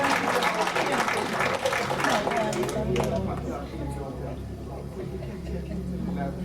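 An audience at a discussion session claps in a burst of dense, loud applause that fades after about three seconds, leaving crowd chatter and talking.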